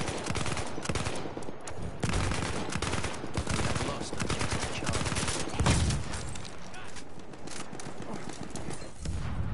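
Rapid machine gun fire and a dense fusillade of shots in Battlefield 1 on PS4, sustained and loud through the whole stretch, with clanking bursts mixed in.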